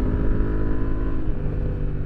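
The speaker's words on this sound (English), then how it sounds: "most people aren't going to be this hard on the throttle at these lean angles on an adventure bike with knobby tires" Adventure motorcycle on knobby tires held hard on the throttle at steep lean angles, a loud, steady, close engine drone with a rich low rumble throughout.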